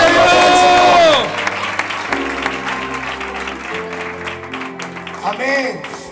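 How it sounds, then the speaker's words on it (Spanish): A church congregation in Villaverde claps loudly together at a 42nd anniversary service, with dense applause and some cheering that fades into music and a speaking voice, then a brief swell of clapping returns near the end. "Fuerte ese aplauso para la gloria del Señor."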